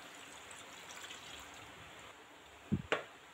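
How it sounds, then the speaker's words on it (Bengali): Water pours steadily into a pot of beef and potato curry, a faint, continuous rushing trickle that ends with a couple of brief knocks. "এবার আমি এর ভিতরে দিয়ে দেবো ঝোলের পানি"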